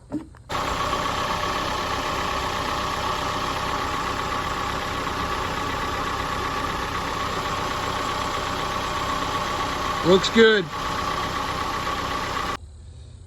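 A 2015 Ford Fiesta SE 1.6L engine idles steadily at close range with a low, even rumble, then cuts off near the end. A voice speaks briefly partway through.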